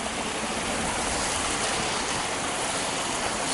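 A waterfall outdoors roars with steady, loud rushing water that fills the whole stretch without a break or change, and no voices come through over it.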